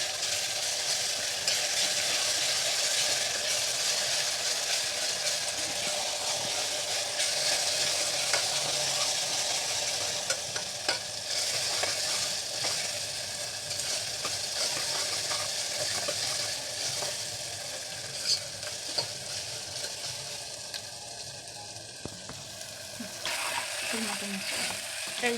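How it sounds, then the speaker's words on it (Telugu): Onion frying with ginger-garlic paste for mutton keema, a dense continuous sizzle with repeated scraping and clinking of a spoon stirring in the pan, close and loud throughout, with faint speech at moments. "ఆనియన్ ఎర్రగా వేగిన తర్వాత అల్లం పేస్ట్ యాడ్ చేయండి"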